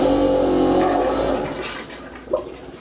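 Toilet flushing aboard a Nautiner 38 motor yacht: a loud, close rush of water and pump noise that runs steadily for about a second and a half, then fades, with a brief gurgle near the end.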